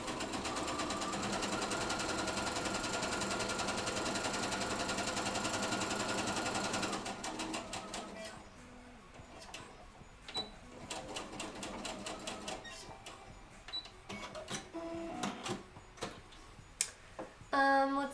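A sewing machine stitches fabric, first in a long steady run of rapid mechanical clatter, then breaking into shorter bursts and stops with quiet gaps between them.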